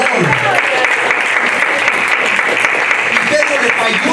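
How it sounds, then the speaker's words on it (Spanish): Loud, sustained applause fills a church service as the congregation claps for the Lord, dense and steady throughout with some voices mixed in among the clapping. "den un fuerte aplauso al Señor"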